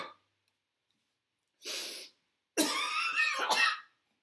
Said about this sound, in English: Now he's coughing.